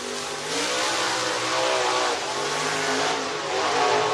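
Race cars at the Ice Bowl come over a hill, their engines rising and fading in a steady, mid-distance roar with swelling revs and no talk.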